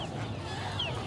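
Desi chickens, two months old, cluck and chatter at a busy poultry market, a dense low clucking murmur with a noisy crowd backdrop, brief and moderately close.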